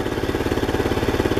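A Jonway Raptor big-bore scooter engine runs steadily at idle, close and loud, with a fast even puttering pulse and no talk over it.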